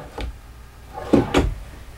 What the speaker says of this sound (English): And then ball bearing full extension drawer glides here.